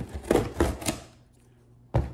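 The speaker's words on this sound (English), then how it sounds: "Excuse the scissors." Scissors cut open a sealed Amazon box: three quick close snips in a row, a short pause, then one more sharp cut.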